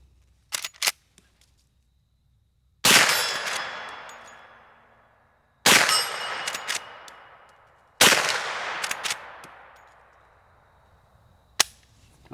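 Three sharp, loud 10mm lever-action rifle shots ring out a few seconds apart, each with a long ringing decay from steel paddle targets flipping. Lighter clicks and metallic clatter from working the action come between the shots.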